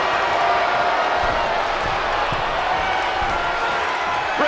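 Steady roar of an arena crowd cheering in WWE 2K24 at an Elimination Chamber match, continuous and loud with scattered thuds and an announcer talking over it.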